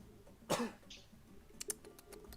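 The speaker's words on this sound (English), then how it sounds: "Hold on. I got a cough now." A single sharp cough up close, followed by a few softer throat-clearing sounds and small noises in a quiet room.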